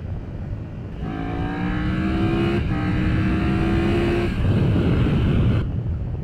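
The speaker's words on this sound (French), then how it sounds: "le bruit sur la moto est jouissif" A loud Triumph Tiger 1200 motorcycle engine revs and roars steadily at close range, its pitch climbing in smooth rising sweeps before settling into a sustained growl.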